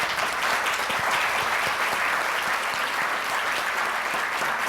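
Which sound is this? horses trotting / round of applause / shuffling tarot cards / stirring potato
round of applause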